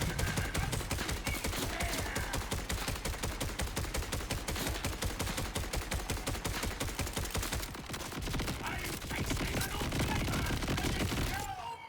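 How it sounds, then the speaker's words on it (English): A Jakobs assault rifle in the video game Borderlands 4 empties a full magazine in one long rapid, even string of loud gunshots, followed by a brief reload clatter. "Let's just empty a mag and look at the fire rate."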